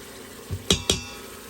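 Tomato, ginger garlic paste and sliced green chili tossed into a cooking pot: a soft thud, then two sharp metallic clinks close together, with a quiet background.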